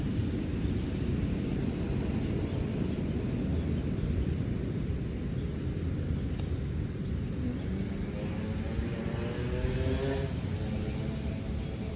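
A DJI Avata 2 FPV drone fitted with HQProp 3x3x3 propellers flies in manual mode, giving a steady, loud, broadband whooshing drone hum that stays constant throughout with no talking.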